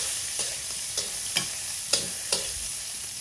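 Chopped garlic frying in a small amount of oil in a pan, a soft continuous sizzle with a handful of light, evenly spaced stirring taps, close and without speech.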